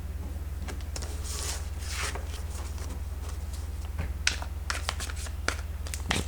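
Tarot cards are shuffled by hand, a continuous soft papery rustle with crisp riffling bursts and small snaps, close up over a low steady hum.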